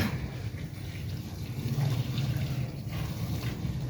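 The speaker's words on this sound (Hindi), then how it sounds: "पाइप की आवाज़ कितनी प्यारी लग रही है पानी पे गिरती हुई" Water streams steadily from a pipe into water that is already collecting in a container during household chores, a continuous close splashing and gurgling trickle with no talk over it.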